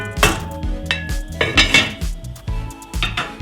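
Pork loin with white wine being stirred in a pan, with a utensil repeatedly clinking and scraping against the metal in a rhythmic pattern, loud and close, with no voices.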